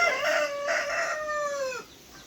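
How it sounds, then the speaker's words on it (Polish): A rooster crows on a farm, one long loud cock-a-doodle-doo lasting nearly two seconds with some background fowl noise, close to the listener and no talk. "Idziemy do kurczaczków teraz."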